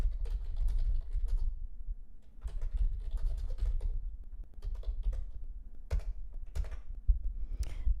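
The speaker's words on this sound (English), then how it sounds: "that is the sound of me typing an email because this mic is very sensitive" Rapid keyboard typing in bursts of clicky keystrokes, close to the microphone, with short pauses between runs and a low background hum.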